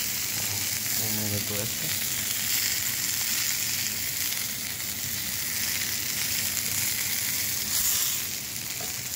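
Short ribs searing in a hot pan, a loud, constant sizzle of fat spitting throughout, with a brief spoken remark near the start.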